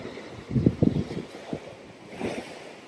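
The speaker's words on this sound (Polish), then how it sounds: "Tutaj jak ta woda tak uderza, pięknie." Ocean waves hit the shore on North Stradbroke Island, Australia, with a few rough, rumbling surges in the first half, then a softer wash, all under steady wind noise.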